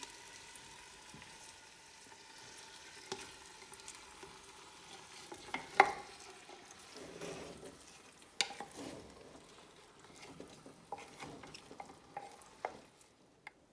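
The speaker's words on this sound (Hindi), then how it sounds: "बड़े साइज़ का 1 ऑनियन, इसमें मीट को भी डाल लेते हैं।" Meat and a large onion frying and being stirred in ghee in a pot for matka mutton kunna, a steady low sizzle broken by scraping stirs and a few sharp utensil knocks against the pot.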